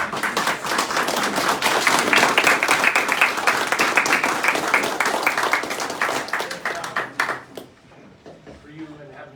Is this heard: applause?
yes